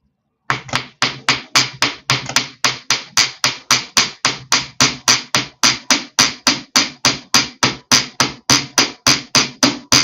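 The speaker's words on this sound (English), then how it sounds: "I'm going to hammer at the bottom of this pin out." Quick, sharp hammer taps strike the end of a wire pin in jewelry beadwork, several dozen in a steady, fast rhythm. The blows are close, crisp and evenly spaced, with no talking.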